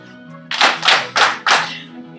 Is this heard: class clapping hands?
yes